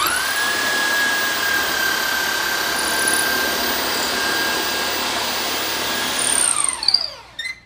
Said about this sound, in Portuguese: Tá fixado na furadeira, a parte fina já tá aqui, ele vai girar e ele vai tornear quando passar pela lâmina.